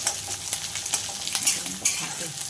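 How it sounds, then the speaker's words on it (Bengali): Shrimp sizzles in hot oil with dried and green chilies and moong dal, a steady close crackle broken by scrapes and taps of a stirring spoon against the pan. "দিয়ে দেবো কয়েকটা কাঁচা লঙ্কা দিয়ে এটাকে ভালো করে ভেজে নেব"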